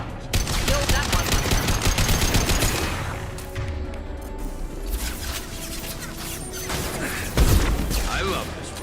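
Rifle fire in Mass Effect 2, dense repeated shots and crashing game effects layered with music and a voice talking over the action.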